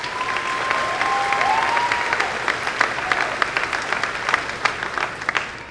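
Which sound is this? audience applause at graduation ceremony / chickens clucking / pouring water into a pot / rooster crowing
audience applause at graduation ceremony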